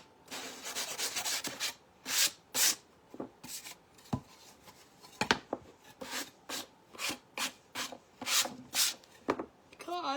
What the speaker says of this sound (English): I'm not sanding off, I'm just sanding it smooth.